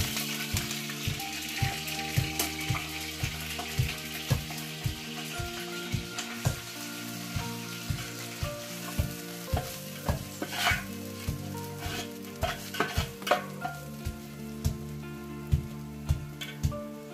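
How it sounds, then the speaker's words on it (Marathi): Ground roasted coconut paste sizzles loudly in hot oil for a Konkan-style tempering, with a continuous crackling fry broken by regular scraping stir strokes in a steady rhythm. "भाजलेल्या खोबऱ्याचं वाटण तेलात फोडणीकडे टाकलेलं आहे."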